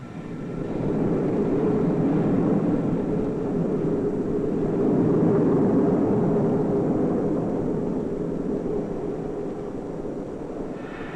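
Concorde 002 on the ground at RAF Fairford in Gloucestershire after landing, a steady loud jet engine roar holding for the whole stretch with no voices.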